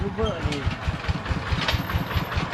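A diesel tractor engine chugs in a steady rapid rhythm close by, loud and continuous, with a voice talking over it briefly, at a Buddhist merit-making festival in Laos.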